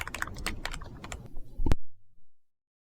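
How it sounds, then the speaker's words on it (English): Rapid keystrokes clatter on a computer keyboard in a quick irregular run, close and fairly loud, ending in a sharper final tap before falling silent. "All I could hear was typing."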